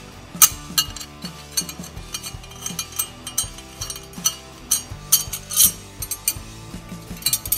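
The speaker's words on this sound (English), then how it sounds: "just unscrew the posts from the cigar tube" Small metal guitar tremolo posts being unscrewed from a Fender Mustang tremolo's cigar tube, giving close, irregular ratcheting clicks and light metallic clinks with no talk.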